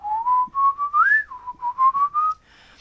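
A single person whistles a wavering, sliding melody in short rising and falling phrases, close and fairly loud, imitating the squeaky chatter of the Clangers puppet characters.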